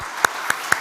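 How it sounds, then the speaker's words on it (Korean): A church congregation claps in a few sparse, distinct claps over a steady crowd murmur, heard at a moderate distance. "하나님께 영광의 박수 한번 드릴까요?"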